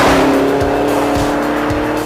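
Chevrolet Camaro ZL1 lapping a race track under hard braking, its tires squealing over a loud, steady engine roar, close and continuous with no voices.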